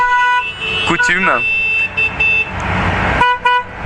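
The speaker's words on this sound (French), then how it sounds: "alors le concert de klaxon" Car horns blare together in a horn concert at the Antoing Cross Festival 2015 motocross event, several loud tones overlapping with short drops and bursts, close and continuous.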